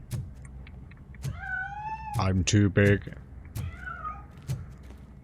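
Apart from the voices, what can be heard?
cat meowing in video game Robocop: Rogue City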